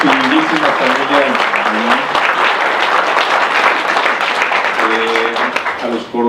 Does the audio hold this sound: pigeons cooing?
no